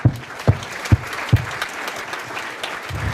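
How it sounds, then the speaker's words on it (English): A crowd claps steadily for a few seconds, with several sharp louder hits standing out near the start before the applause settles into an even patter. "let's give them all another round of applause"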